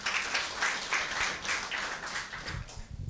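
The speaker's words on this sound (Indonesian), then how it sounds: "Haleluya, tepuk tangan buat Tuhan." A church congregation claps during a Sunday worship service, a dense burst of many hands that gradually thins and fades out toward the end.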